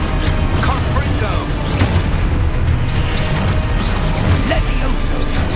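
A fiery Confringo blasting spell explodes in Hogwarts Legacy combat, with booming bursts buried in a dense, continuous wash of battle effects and background sound.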